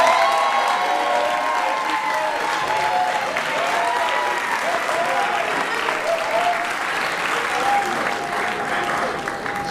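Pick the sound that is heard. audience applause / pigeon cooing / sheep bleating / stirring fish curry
audience applause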